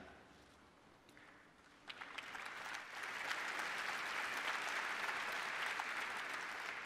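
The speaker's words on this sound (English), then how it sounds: "Thanks for realizing I was waiting for you to applaud." An audience at the Adobe Max 2011 conference starts with a few scattered claps, then swells into full, steady applause that continues to the end of the clip.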